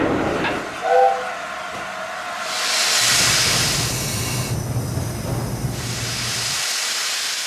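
An A4 steam locomotive gives off a strong, broad hiss of escaping steam that surges and fades over several seconds, with a low rumbling rail sound underneath and a brief whistle-like tone near the start.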